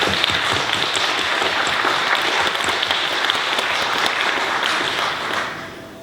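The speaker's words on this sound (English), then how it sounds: "отметить свое уважение аплодисментами" Loud, sustained applause from a large audience, steady throughout and easing slightly at the end.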